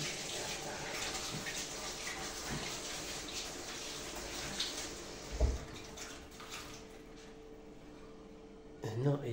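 Hands being washed under a running kitchen tap, a steady close hiss of flowing water throughout with a few soft knocks and a brief splash near the end.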